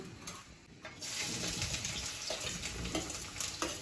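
Oil heating in a pan for Maggi, with onions, tomatoes and chillies to follow: a steady close hiss and crackle of frying that grows louder after the first second and then holds evenly with no talk.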